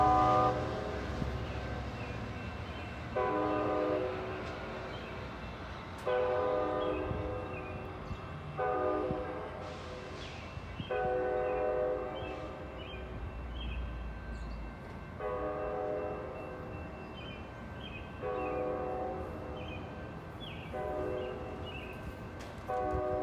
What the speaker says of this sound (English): So here's Amtrak train number 712, Gold Runner, departing Oakland Jackson Square.